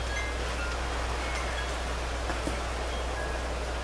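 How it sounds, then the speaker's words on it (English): Wind blowing outdoors on a cold, blustery day, a steady broadband rush with a low rumble that holds evenly throughout, with no talking. "it's getting very windy here"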